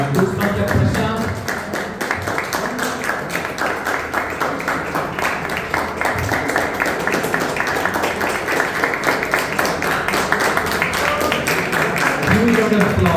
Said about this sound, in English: Huge round of applause, Toastmaster Prashant.